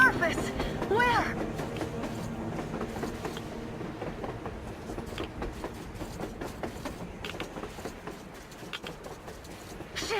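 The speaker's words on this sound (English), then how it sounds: "A train! A damn train on the surface!" A train rumbles past on the surface in the video game Metro Exodus. Rhythmic clattering and rolling noise stays steady and fairly close, fades slightly toward the end, and runs under some voices.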